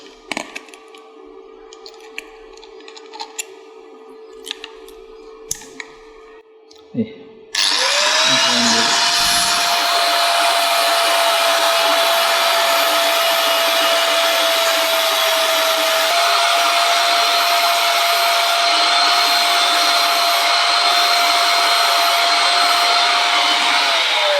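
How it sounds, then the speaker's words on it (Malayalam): A bench grinder fitted with a buffing wheel polishes a slingshot fishing dart; after a few clicks and handling noises the motor spins up and holds a loud, steady high whine for the rest of the recording. "കട്ടിംഗ് വീല് മാറ്റിയിട്ട് ബഫിങ്ങിൻ്റെ വീലാക്കാം"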